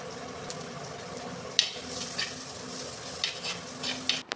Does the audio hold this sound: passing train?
no